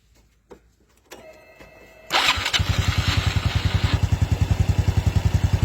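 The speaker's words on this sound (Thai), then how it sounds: "อ่ะเดี๋ยวลองติดเครื่องให้ดูนะครับ" Honda Wave 110i motorcycle cranking and catching, its engine settling into a steady, loud, close idle with a rapid regular pulse after a few faint clicks.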